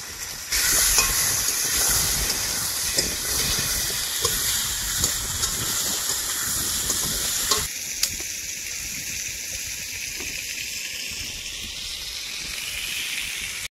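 Fish frying in oil at a picnic cookout in the Sundarbans, a loud continuous close sizzle and hiss with crackling bursts, briefly louder then settling to a steady bubbling fry.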